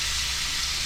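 Potato halves searing face down in hot olive oil in a pan give off a steady, close sizzle with constant crackling spatter and no break.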